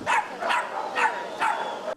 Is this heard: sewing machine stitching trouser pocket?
no